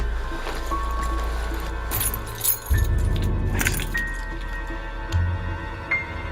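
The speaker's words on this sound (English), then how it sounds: "Why don't you give me your car keys?" Car keys jangle in a close, bright metallic rattle over a low steady hum, with several separate clinking bursts spread across the stretch.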